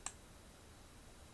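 Two faint, sharp computer mouse clicks sound about a second apart against near silence while a user works in Maya 3D software.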